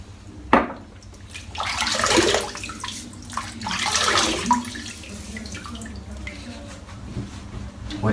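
Running water from a tap wets a head before a shave, with splashes and pours rising and falling in bursts, moderately close in a quiet room, without talk.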